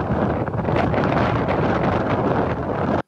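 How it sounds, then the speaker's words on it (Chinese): Strong typhoon wind roars across the Wanggong fishing harbour in Changhua, a loud, continuous buffeting rush battering the microphone with gusts that never let up. "台风来袭，强风呼呼的吹"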